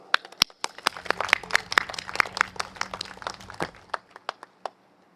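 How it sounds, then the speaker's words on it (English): Crowd applause at an outdoor Singapore general election rally for Red Dot United in Holland-Bukit Timah GRC: a burst of scattered hand claps that thins out and fades to a few stray claps. "give them a round of applause"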